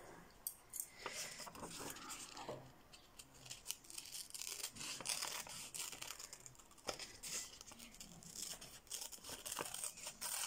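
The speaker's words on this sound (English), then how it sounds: "So I'm going to cut along that line and see what happens." Scissors cut paper for a collage, with a close, quiet series of irregular snipping and crisp slicing sounds alongside light rustling of the sheet.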